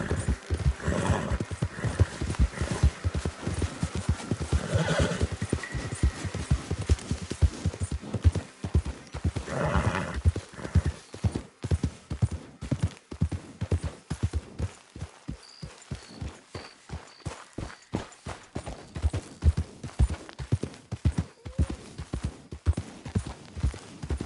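Horse galloping in a PS4 video game: a steady, fast clip-clop of hooves running throughout, with an occasional whinny and no talk over it.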